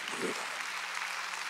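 A church congregation at a Wednesday service breaks into a brief burst of applause, a short, fairly faint wash of clapping that quickly fades.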